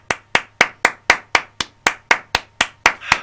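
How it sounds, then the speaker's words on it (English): A single pair of hands claps in a slow, even rhythm, about a dozen sharp, close claps, loud and dry against a quiet background with no talking. "Round of applause."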